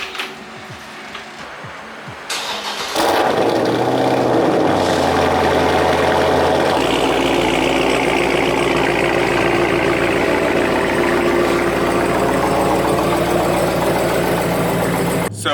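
A widebody Dodge Charger, recently repaired for a knocking noise, fires up after a couple of seconds of quiet handling sounds, then holds a loud, steady idle nearby with a slight shift in tone partway through.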